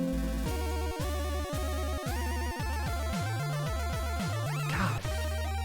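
NES video game music played back on stream, bright chiptune square-wave melody over a bouncing bass line and clicking percussion, steady rhythmic loop, clear and prominent with no voices.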